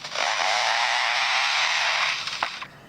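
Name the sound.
lyrebird mimicking chainsaw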